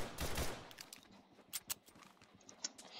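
Rapid gunfire in the Roblox game Arsenal: a close burst of several shots at the start, then scattered sharper cracks and clicks spread through the rest.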